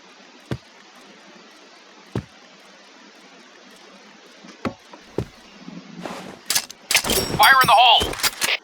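Sparse single shots from a KRISS gun in a video game ring out as isolated sharp cracks several seconds apart, followed by a busier burst of game sounds and effects near the end.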